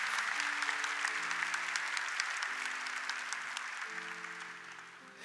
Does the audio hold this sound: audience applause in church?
yes